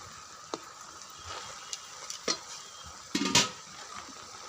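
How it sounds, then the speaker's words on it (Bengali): Potato and pumpkin greens stir-frying in a pan, with a low sizzle under scattered scraping and clinking strokes of the spoon, a few louder scrapes near the end, no talking. "ভালো করে আলুটার সাথে কষিয়ে নেব।"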